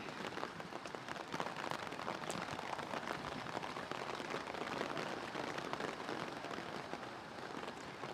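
Steady rain pattering on a nearby surface at an outdoor UK American football match, a dense continuous patter with no talk.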